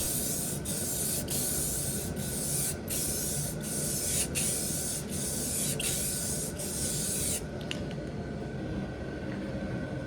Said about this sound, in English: I'll give the entire thing a final coat of clear satin to seal everything and give it a uniform look